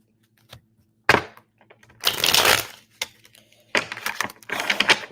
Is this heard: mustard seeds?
no